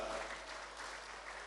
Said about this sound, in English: A round of applause for Sandra